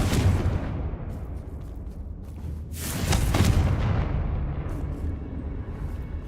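A Confringo blast spell from Hogwarts Legacy lands as a booming, crackling explosion near the middle, set against a steady rumbling game soundscape with an early burst fading out at the start; no one speaks.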